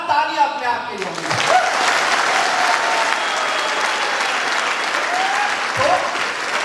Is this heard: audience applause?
yes